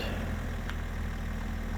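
A tractor engine idles in the video game Farming Simulator 22, a steady low rumbling drone with an even pulsing beat, close and unbroken, no voices.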